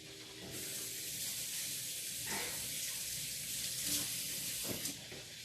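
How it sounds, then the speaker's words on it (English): Steady hiss of running tap water while hands are washed at a kitchen sink during meatball and Sunday gravy cooking, continuous and fairly close with a few brief splashy bursts. "Let me wash my hands."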